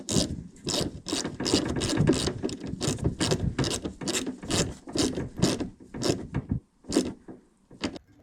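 Ratchet turning the gas tank bolts on a Mitsubishi Eclipse GSX, heard as a long run of close, loud, evenly spaced clicking strokes with short gaps near the end.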